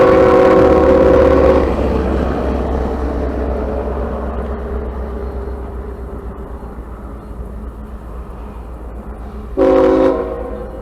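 A train near a rail yard sounds a loud horn blast, then rumbles steadily past for several seconds before a second horn blast near the end.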